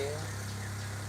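A small fan runs inside a car, giving a steady low electric hum with a constant drone and faint airy noise, unchanging throughout.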